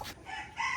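A free-ranging chicken crows close by in a short, bright call, part of one brief crow with a rising and falling tone.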